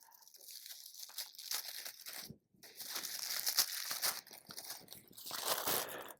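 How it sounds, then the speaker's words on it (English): Close, crisp tearing and crinkling as a sticker is torn off thin tissue paper, with rustling bursts broken by a short silent pause midway. "that sticker, with being that it's on tissue paper, you kind of have to tear it off"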